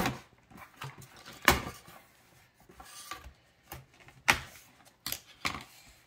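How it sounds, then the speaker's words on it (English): Scissors snip the tags and packaging off an American Girl Maryellen 1954 doll, giving a few sharp separated clicks and cuts over light rustling, close and fairly quiet. "we have to take off and snip off with the scissors"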